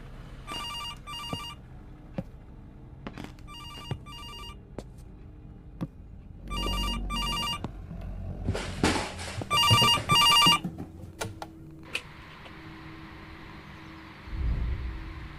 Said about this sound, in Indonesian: Seseorang menelpon. Telepon.